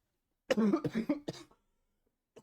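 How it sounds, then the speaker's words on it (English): A short burst of rough, uncontrolled coughing from a person with the flu, several hacks in quick succession, close up, then silence with a faint catch of breath. "if I cough uncontrollably like that, it's because I have the flu"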